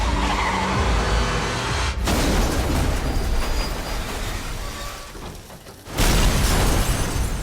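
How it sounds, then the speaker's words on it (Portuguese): A truck tips over and smashes into a police station in a zombie film, loud skidding and grinding debris with crunching impacts, a sudden cutoff, then a renewed heavy crash that stays loud to the end. "daí um caminhão tomba, invade a delegacia, causa uma explosão gigantesca"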